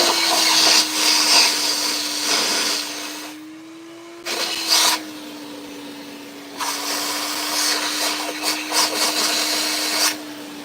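A vacuum runs in a bowling pro shop, cleaning out a freshly drilled bowling ball hole. Its close, loud steady whine dips and cuts out briefly, with its tone shifting as the nozzle moves, and no voices are heard.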